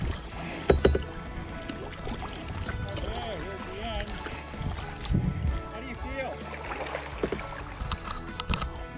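Kayak paddle strokes splash and gurgle on a lake in Northern Thailand, irregular close dips in the water with a voice speaking over them.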